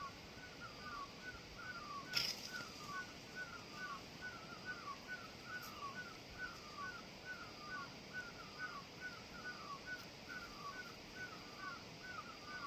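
Crows caw over and over in a forest near a house, with short harsh calls repeating steadily at a moderate distance against a quiet background.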